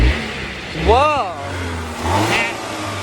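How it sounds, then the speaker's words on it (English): Turbocharged engine of a Volvo XC90 T6 SUV revving once sharply and dropping back, heard close outdoors in snowy autumn conditions, with a person exclaiming over it. "That's your turbocharged engine sound."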